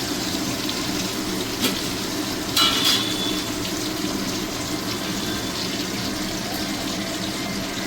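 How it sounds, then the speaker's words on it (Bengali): Brinjal frying in fish oil with salt and turmeric makes a steady, dense sizzle close by, with a couple of brief louder crackles and no talk. "মাছের তেলের ভিতরে আমি দিয়ে দেবো বেগুন। বেগুনটা একটু নুন হলুদ দিয়ে ভেজে নেব।"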